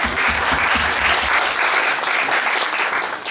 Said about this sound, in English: please give a round of applause for her